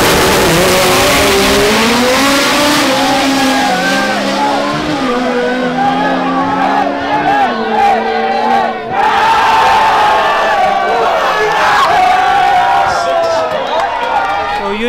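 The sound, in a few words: B-series turbo EK hatchback racing in finals, crowd cheering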